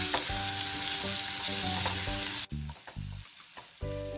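Onion and tomato fry in a pan for a green gram curry, giving a steady, close, bright sizzle with scraping stirs. The sizzle dips sharply halfway through, then returns in short bursts, with no talking.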